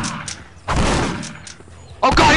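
Shotgun blasts from Postal 2 land as two heavy, loud booms about a second apart, each with a short decaying tail, mixed with game noise and a voice speaking nearby.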